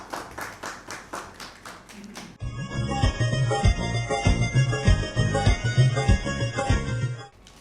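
Audience applause welcoming a poet at a special mushaira for Pakistan's 76th Independence Day: steady hand clapping from a crowd, first light and sparse under a voice, then a denser burst of sustained clapping lasting several seconds.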